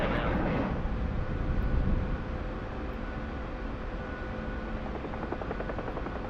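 Military combat search and rescue helicopter in flight, its rotor and engine producing a loud, steady broadband roar that holds close and constant throughout, with no voices over it.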